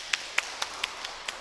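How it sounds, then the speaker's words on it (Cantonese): A handful of sparse, evenly spaced claps, about six in all, ring out faintly in a recital hall at a Chinese dizi concert, greeting a young yangqin player. "咁啊俾啲掌聲聲嘅"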